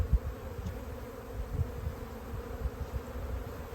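Honey bees hum in an open hive during a late-winter inspection, a low steady drone with a few soft knocks of frames being handled, quiet and without talk.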